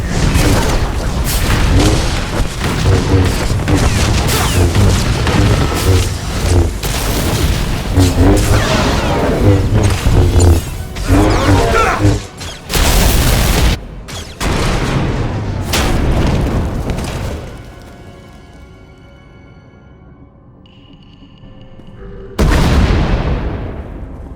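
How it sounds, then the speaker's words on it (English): Booming explosions and blaster-like bursts from a Star Wars: The Old Republic battle, a dense run of loud blasts with music underneath, then a quieter lull before one last sharp burst near the end. "We heard explosions."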